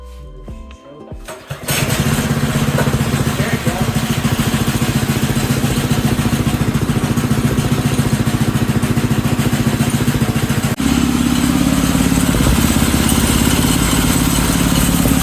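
A small go-kart engine on a budget axle kit, started for the first time, sputters to life after a brief mechanical rattle, then runs loudly and steadily with a rough, buzzing idle.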